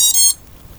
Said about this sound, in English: I got the beeps on the ESC, the first ones